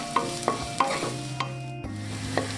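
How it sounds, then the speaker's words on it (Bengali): Chopped onion and garlic fry lightly in a pan for vegetable soup, a soft sizzle under regular scraping taps of a spoon stirring about every third of a second, close and moderately loud. "পেঁয়াজটা রসুনের সাথে হালকা ভেজে নেব।"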